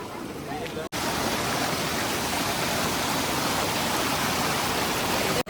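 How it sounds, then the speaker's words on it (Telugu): A mountain stream at Vanjangi in the Araku valley rushes in a loud, steady broadband wash at moderate flow, continuous apart from two brief dropouts. "వాటర్ ఫ్లో అయితే తక్కువ ఉంది."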